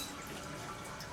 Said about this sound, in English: will you flush the toilet for me gently and see what happens?